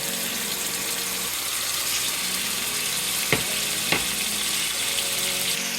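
Yogurt hits a hot pan while cooking chana pulao, giving a steady, close sizzle of frying throughout with a couple of short sharp clicks from the pan.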